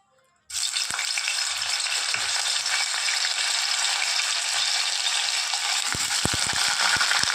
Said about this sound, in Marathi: आता आपण फोडणी टाकणार आहोत